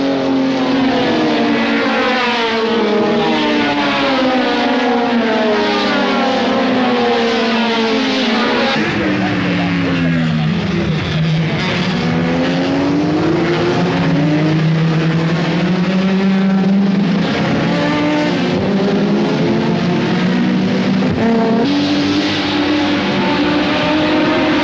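Race cars roaring off at the start of a 1,000 km endurance race, a loud dense engine drone that rises and falls in pitch as cars pass close by, with voices under it.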